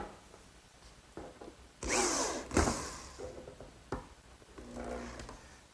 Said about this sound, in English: I'll drill a hole right at the top edge.